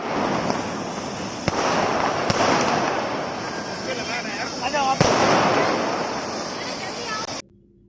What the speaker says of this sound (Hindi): देखा आपने इस वीडियो में पटाखों की आवाजें और कलर्स कितने खूबसूरत थे